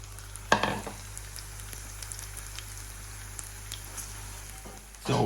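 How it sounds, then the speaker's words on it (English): Garlic simmering gently in olive oil inside a clay pot, a faint steady bubbling hiss with a louder sizzling crackle near the start and another at the end. "the garlic is just slightly simmering"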